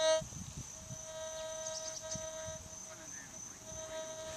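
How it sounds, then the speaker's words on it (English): Steady threshold buzz from a Tesoro Outlaw metal detector switched to all-metal mode, a continuous thin hum held at a constant level throughout with a faint background hiss. "And you can hear the buzz of the threshold."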